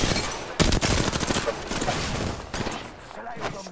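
Rapid gunfire in an Apex Legends match, dense and loud throughout with a sharp shot at about 0.6 s, layered over game effects and a voice speaking.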